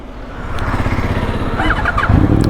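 A powerful motorcycle engine rumbles loudly up close, revving and pulling off as its throaty note rises and grows stronger.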